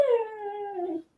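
A dog gives a single drawn-out vocal call indoors, a whining, howl-like cry lasting about a second that slides gently down in pitch before cutting off, close and clear with no talking.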